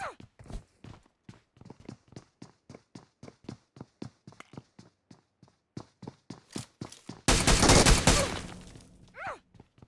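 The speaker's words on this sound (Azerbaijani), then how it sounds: "Adamın ayak səsini vaxtında eşitdim ya." Quick, evenly spaced footsteps patter close by in PUBG Mobile Metro Royale, then a loud sustained burst of noise rings out before the steps resume faintly.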